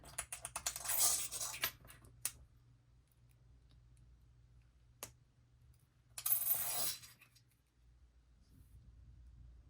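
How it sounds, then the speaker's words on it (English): Metal clippers snip small metal charms off wooden earrings, making sharp little clicks and clinks in two short bursts with a single tick between them, close and moderately loud against a quiet background. "I'm just going to get my metal clippers, and I'm just going to cut those right off."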